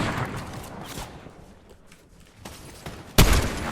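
Gunfire in a ranked Fortnite match comes as bursts of loud, close shots, with a dense volley at the start, scattered shots in the middle and a strong blast near the end.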